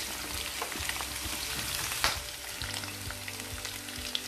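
Chopped tendli (ivy gourd) sizzles steadily in a hot pan for a vegetable sabzi, a continuous close crackle with a sharper clatter about midway and occasional small pops, no voices.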